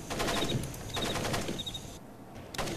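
In the video game Splinter Cell Pandora Tomorrow, gunfire rattles at a shooting range in rapid automatic bursts, three main volleys a second or so apart, moderately loud with a brief gap near the end.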